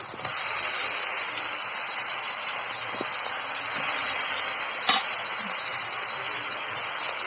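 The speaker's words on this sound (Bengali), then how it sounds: "প্রথমে আমি টমেটোটা দিয়ে দিচ্ছি" Tomato goes into a hot frying pan for a fish curry, giving a steady, loud broadband sizzle that holds evenly throughout with no talk.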